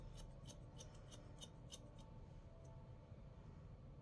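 Scissors snip hair repeatedly while point-cutting a custom wig, giving quick faint clicks in an irregular rhythm that ease off toward the end, set against a steady low background hum.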